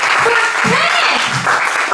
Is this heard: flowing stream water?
no